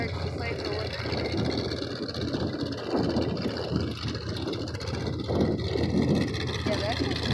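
An ice race car's engine runs steadily on a frozen lake at the 2018 Harpts Lake ice races, a continuous low drone with people talking over it.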